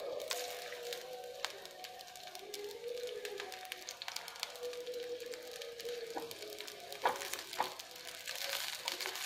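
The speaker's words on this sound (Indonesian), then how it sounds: "Setelah panas, kita masukkan si bawang merah, bawang putihnya, masukin aja semua" Shallots and garlic sizzle in hot oil in a pan while a heat-resistant spatula stirs them, giving a continuous fine crackle with scraping strokes and occasional taps, fairly quiet and close.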